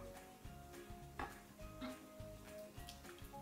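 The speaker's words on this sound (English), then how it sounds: "now I stir" Snow slime being stirred in a container, giving soft wet squelching and scraping sounds with a few clinks against the sides, close and moderately loud over low background hum.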